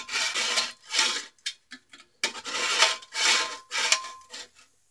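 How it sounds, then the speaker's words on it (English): A hacksaw cutting into a steel propane tank to make a crucible, heard as rhythmic back-and-forth rasping strokes, close and fairly loud, with brief pauses between runs of strokes and no talking. "So we're going to start out with a hacksaw,"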